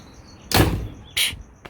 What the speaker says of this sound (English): So look how nice that door closes.